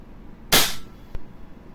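A single sharp shot from a WE Hicapa Dragon airsoft pistol during a velocity test, a close crack with a short decay followed by a faint click, otherwise quiet.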